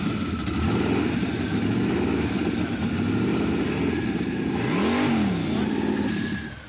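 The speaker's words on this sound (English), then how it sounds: "Cycle the key and then start it." A Roadkill muscle truck engine runs with a steady mid-pitched drone and a sharp rev rising and falling near the end, loud and continuous throughout.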